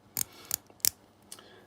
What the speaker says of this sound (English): it clicks into place, and as you can hear, very, very nice clicks